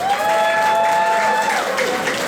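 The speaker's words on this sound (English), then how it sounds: "Y'all give the Chambers group and Jellicle Ball a round of applause." An audience applauds at a ball event. The clapping is a dense, continuous wash with some crowd noise, and a sustained tone that falls near the end rings over it.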